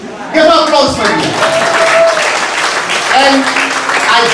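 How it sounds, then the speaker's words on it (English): A crowd at a Hindu cultural organization's anniversary event breaks into applause, a loud sustained clapping that runs throughout while a voice talks over it. "Give applause for me."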